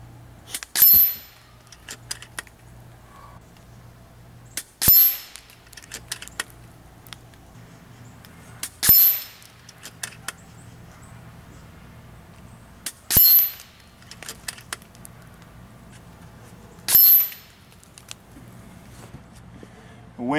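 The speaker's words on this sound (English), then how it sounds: "now we're going to shoot 5 more shots, but these are going to be the Hades" An FX air rifle fires JSB Hades pellets at a 45-yard target: five sharp, evenly spaced shots about four seconds apart, each a crisp crack with a brief tail, against quiet outdoor background hum.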